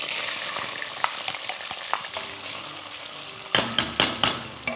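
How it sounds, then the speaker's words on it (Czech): Coarsely chopped onion frying in rendered beef fat in a pan, a steady close sizzle with stirring clicks and a louder burst of crackling spatter near the end. "Restujeme do zlatova."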